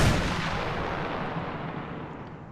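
Gunfire and an IED blast in Arma 3 near a disabled vehicle: a loud, rumbling explosion-like roar that slowly fades over a couple of seconds, with no speech.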